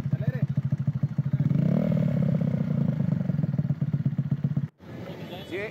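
A nearby motorcycle with a loud, choppy modified exhaust putters, then revs up into a sustained roar before cutting off abruptly; the engine restarts quietly after.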